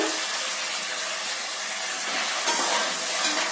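Onions and potatoes fry in a pan with a loud, steady sizzle and hiss that surges slightly near the end, with no talking.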